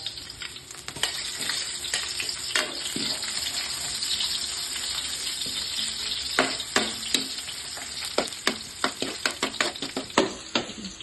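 Garlic and onion sauté in a pan for Bicol Express, a steady close sizzle of frying running throughout, broken by sharp scraping stirs that come faster and louder toward the end.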